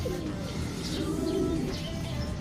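Racing pigeons coo softly on arrival at the loft after a midtoss training flight, with low, rolling coos and faint chirps over a light background hum.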